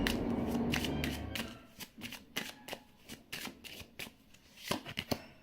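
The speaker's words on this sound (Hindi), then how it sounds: "अब मैं सारे कार्ड्स निकालूंगी" A deck of tarot cards is shuffled with a brief riffling whir, then cards are drawn and slapped down one by one in a steady series of crisp close snaps.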